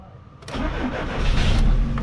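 The engine of a GAZelle van turns over and catches after its crankshaft sensor is replaced. A brief crank gives way to a loud, rumbling engine that settles into a steady run, close by and with no talk.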